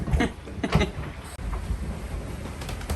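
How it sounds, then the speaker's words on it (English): Wind gusting over a boat stopped on the open mid-Pacific. The steady low rush and buffeting carries some creaks and knocks from the vessel. "The wind has arrived."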